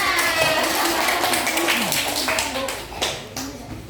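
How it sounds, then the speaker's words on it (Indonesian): Children clap their hands together during a health education session on dengue fever prevention, a dense burst of clapping running the whole time over a noisy room, with voices mixed in. "Tepuk tangan."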